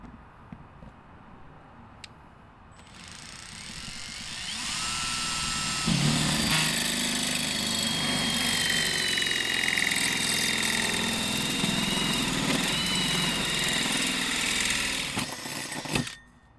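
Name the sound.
hole saw drilling through van wall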